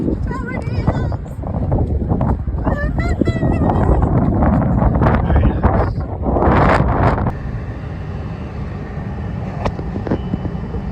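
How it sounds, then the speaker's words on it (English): Strong 50-mile-per-hour gusts carrying flying dust in New Mexico, roaring and buffeting loudly against the microphone. People talk over the wind for the first several seconds before it continues as a rough, steady rumble. "Drive in the 50-mile-per-hour gusts and flying dust."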